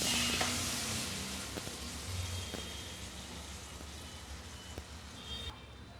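Tomatoes fry in a pan, giving a steady soft sizzle with a hissing, rain-like texture and a few faint clinks, heard close and alone at low level.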